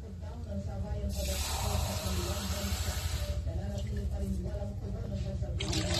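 Pot of fish with ginger, onion and tomato coming to a boil, giving a steady broad hiss and bubbling that swells loudly about a second in and continues close up.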